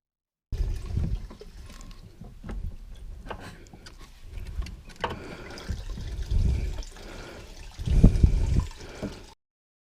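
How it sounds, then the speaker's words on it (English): Fuel draining out through the bottom of a bucket into a catch can during a fuel pump install, a steady trickling and splashing close by, swelling louder near the end. "You can hear it draining out of the bucket. Draining right out the bottom."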